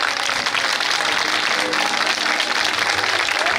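Dense, steady audience applause at a Hindu devotional jagran song performance for the goddess Durga, loud and continuous throughout with no talk over it.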